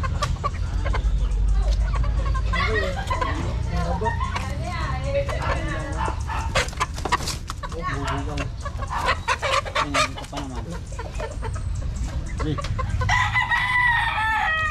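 Chickens cluck and squawk close by, with a rooster crowing among them, while people talk over the flock.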